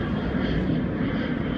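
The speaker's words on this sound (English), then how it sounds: "There's the plane. You can see it in the background." A Southwest airliner passes in the background, a broad steady engine roar filling the scene at moderate loudness throughout.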